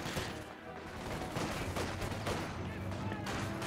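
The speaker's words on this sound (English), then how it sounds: "any of the fire they're getting from the machine guns here" Machine gun fire in an urban battle in the video game Company of Heroes 2, dense overlapping bursts and crackling shots that keep going throughout, loud and busy, with some battle noise mixed in.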